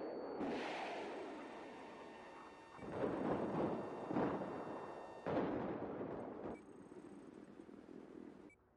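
Missiles launch in the shooter Battlefield 4, sending out several loud, whooshing bursts one after another over a few seconds, each with a roaring tail, and no one speaking.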